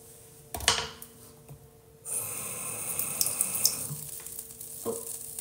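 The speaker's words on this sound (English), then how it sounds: "I just splashed water on it." Water splashes and runs in a sink onto a curling iron, a steady hiss that starts abruptly and continues for a few seconds. Sharp clatters come before it and one follows after, all close by and with no voices.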